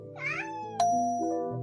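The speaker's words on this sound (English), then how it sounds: "Kitten talk." A kitten meows, a short wavering cry followed by a sharp bright chime and sustained tones, all fairly close and clear with no talking.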